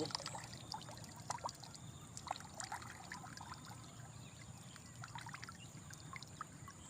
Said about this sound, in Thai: น่น้ำมันไหลดีมาก